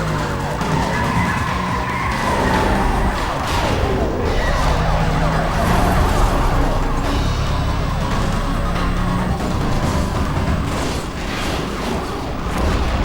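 Police car sirens wail during a chase in the racing game Need for Speed Most Wanted, mixed with tire screeches and a continuous engine roar, loud and dense throughout.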